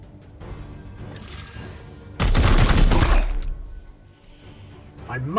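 Gunfire burst from the Warhammer 40K Chaos Gate Daemonhunters video game, a loud dense volley lasting about a second over quieter game ambience, with speech present.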